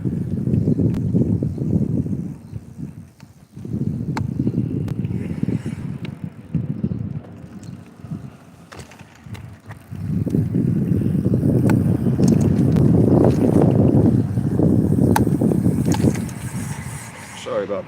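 Jasion JC1 e-bike rolling down a street outdoors, with continuous low road rumble and wind buffeting the microphone, a brief lull midway before the riding noise swells again, a voice talking over parts of it.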